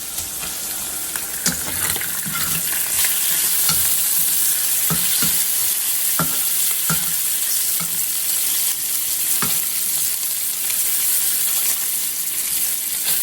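Smoked sausages fry in a pan with a loud, steady sizzle, punctuated by spatula scrapes and occasional knocks as they are turned, sustained throughout without talk.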